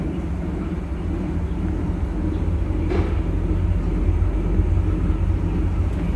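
A steady low rumbling drone from an LG washing machine's spin cycle holds throughout, loud and continuous, rising slightly toward the end with no distinct breaks.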